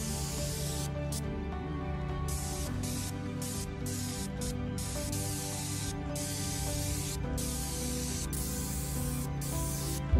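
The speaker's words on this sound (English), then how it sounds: "are going to show you how to do second coat applied by the spray gun" A spray gun applies a second coat of liquid rubber waterproofing to a retaining wall, producing a steady, loud hiss with brief interruptions as the trigger is released and pulled again.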